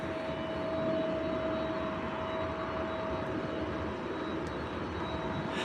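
A fixed-wing airplane landing at a nearby airport drones steadily at moderate distance, a sustained engine roar with a faint whine on top that holds evenly throughout, with no talk.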